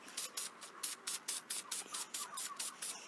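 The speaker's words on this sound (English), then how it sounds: "I'm going to start spray painting my pot, my lavender color." Spray paint hisses onto a pot in lavender color, in about a dozen short, even bursts close to the mic, each lasting a fraction of a second with brief gaps between them.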